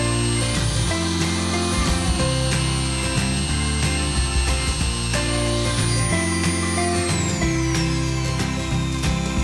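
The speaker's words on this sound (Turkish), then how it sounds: "Hemen 2 milimetrelik ucumla delme işlemine başlıyorum" A power drill with a 2 mm bit boring into a diecast metal model car body held in a damp cloth, a continuous loud whine with steady motor drone and pitch shifts, no talking.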